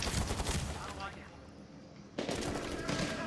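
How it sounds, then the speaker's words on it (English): Gunfire rings out in the video game Medal of Honor Warfighter, with loud rapid bursts of automatic shots, a brief lull, then another sustained volley. "They're going to be shooting at the enemy, and as they shoot at the enemy, it kind of reveals the enemy's location for me."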